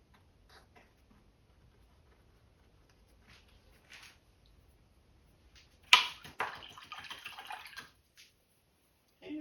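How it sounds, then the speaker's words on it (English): A paintbrush is rinsed in a water cup during acrylic painting, with quiet taps and then a short burst of swishing, splashing water, faint and close, with no talking. "rinsing my brush out"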